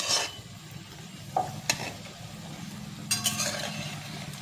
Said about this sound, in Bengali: এই দেখুন সুজির বলগুলো এইভাবে লাল লাল করে ভেজে নিতে হবে